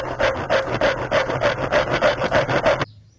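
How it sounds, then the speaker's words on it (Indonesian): A metal file rasps back and forth against a screwdriver tip in about nine even, rhythmic strokes, close and clear, then stops abruptly. "Akhirnya aku modif pakai kikir seperti ini."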